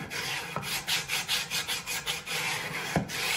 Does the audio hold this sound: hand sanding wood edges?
yes